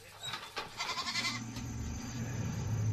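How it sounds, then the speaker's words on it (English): Goats bleat in a cage, their wavering calls overlapping over a steady background hiss, moderately close and fairly faint. "the lions will be drawn to the commotion of bleating goats"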